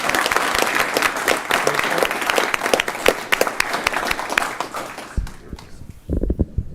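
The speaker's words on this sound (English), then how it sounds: "So if everybody could, just give a round of applause to Colby." An audience at a Surf City, North Carolina town council meeting gives a dense round of applause that fades out, leaving a few scattered thumps and handling noises at the end.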